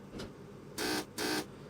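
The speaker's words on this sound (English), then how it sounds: "So 2 on the buzzer from the conductor." Two short buzzer bursts, the conductor's signal to the train driver in the Open BVE train simulator, evenly spaced and fairly faint, preceded by a brief softer tone over quiet cab background.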